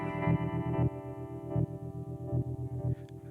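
Electric guitar runs through a BOSS GT-1000 stereo slicer effect, chopping a held chord into a fast, even rhythmic pulse of short choppy bursts with some echo, fading near the end.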